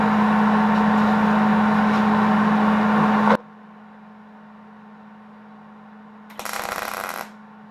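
An arc welder stitch-welds a shortened driveshaft between tacks, a loud steady crackling buzz for over three seconds that cuts off, followed by quiet and a second brief burst of welding.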